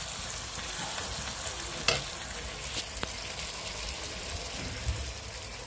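Onion, tomato and garlic sizzle and fry steadily in a pan, a soft continuous hiss with a couple of faint stirring clicks, no voices.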